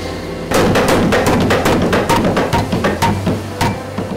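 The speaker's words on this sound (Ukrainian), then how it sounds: "А то от ми тепер чули звук, то звук молота." Water-powered forge hammer pounding in a village smithy, driven by a waterwheel and shaft: loud, close, rapid repeated heavy thuds in an uneven rhythm, about two to three blows per second, over a low background rumble.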